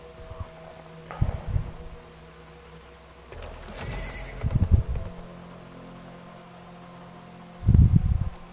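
A horse in the PS5 video game Weird West neighs and whinnies in several loud bursts, mixed with hoof clip-clops and a steady fan-like hum underneath.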